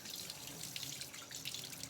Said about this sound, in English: you're going to wash your chicken off with cold water